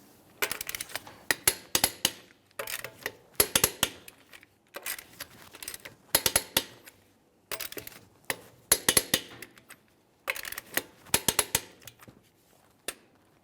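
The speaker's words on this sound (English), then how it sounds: "Let's torque these in a crisscross manner." A torque wrench tightening the wheel lug nuts on a Jeep Grand Cherokee, heard as repeated bursts of rapid metallic ratchet clicks, each burst separated by a short pause, close and loud.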